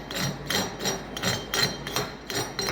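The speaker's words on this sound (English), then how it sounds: "come right in with our chipping hammer once we're done welding and just scrape that slag right off" Chipping hammer scraping and knocking slag off a fresh flux-cored arc weld, a steady run of rhythmic metallic scrapes and taps roughly every half second, close and fairly loud.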